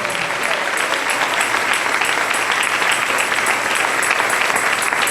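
A church congregation applauds during a morning worship service, a dense, steady wash of many hands clapping that fills the whole stretch at an even, full level.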